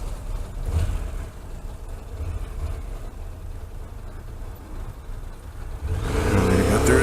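A motorcycle lane splits through car traffic in California, a steady rumble of engine and passing vehicles with wind buffeting, swelling louder near the end as the bike accelerates.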